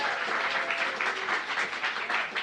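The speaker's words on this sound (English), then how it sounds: "It does say hold for applause." Brief burst of crowd applause at an industry talk event, a steady, moderately loud wash of clapping from a live audience with no talking over it.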